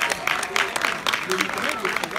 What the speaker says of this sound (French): On applaudit, mesdames et messieurs